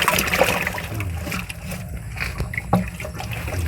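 Water carrying fish is poured into a container, giving a continuous close splashing and trickling with small knocks and sloshes throughout.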